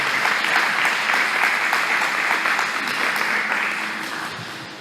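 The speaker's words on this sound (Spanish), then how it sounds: "Puedes darle un fuerte aplauso al Señor en alabanza y adoración." A church congregation gives a strong round of applause in praise and worship, many hands clapping in a thick, sustained wash that slowly softens toward the end.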